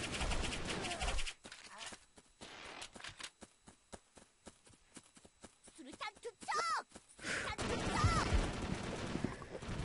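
Rapid repeated weapon shots from a magazine crossbow in the block-building shooter game Brick-Force, firing in quick bursts amid other gunfire and game effects, with a voice talking over parts of it.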